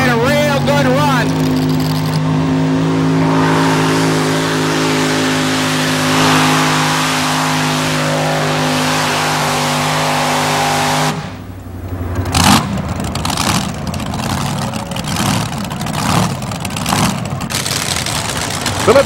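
A single-engine pulling tractor roars at full throttle at a 1987 tractor pull in Fishersville, a loud sustained drone that cuts off abruptly, then gives way to fainter engine rumble and crowd noise.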